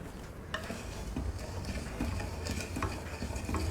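Half a kilo of sugar is stirred into about a cup of water to dissolve it for an aam panna and ice apple sharbat, with a close, steady scraping and swishing of a spoon in a vessel throughout.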